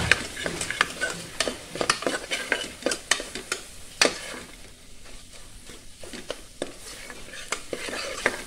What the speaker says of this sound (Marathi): वाटण पण चांगलं परतून घ्यायचं आहे.